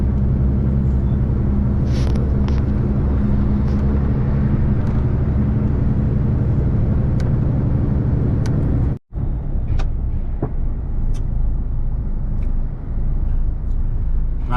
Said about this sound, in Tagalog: Traffic naman tayo dito sa Praha, Czech Republic